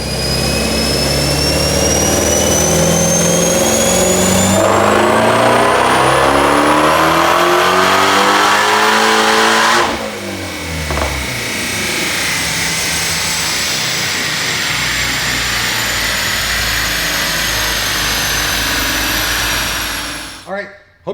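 A 2018 Ford Mustang GT350 with a Gen 5 Whipple supercharger and stock exhaust makes a dyno pull, screaming loud and close as revs climb steadily, shifting up, then easing off into a long, fading coast-down.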